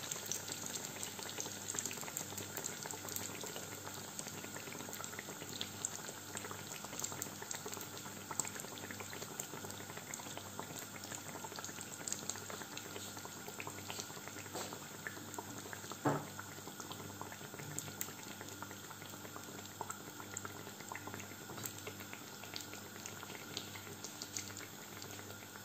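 Tunisian tuna fricassé dough fries in a pot of hot oil, giving a steady, even bubbling sizzle with faint crackles that carries on for the whole stretch without talk.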